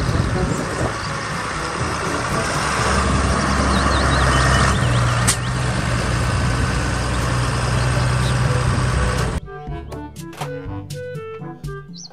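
Engine rumble from a toy tractor, a steady loud low drone with a brief hissing burst midway, ending abruptly before a voice speaks.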